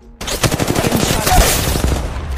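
Automatic weapon fire in the mobile shooter Apex Legends Mobile bursts in after a brief quiet moment, a loud sustained rattle of rapid shots continuing to the end.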